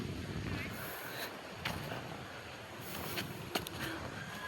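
Wind blows across the steps of the Gopnath temple, a steady breathy rush with gusts buffeting the microphone and a few faint knocks and clicks mixed in.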